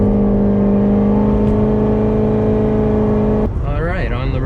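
A 700 HP supercharged Corvette idles steadily and loud with a droning engine hum. A voice speaks over the engine near the end.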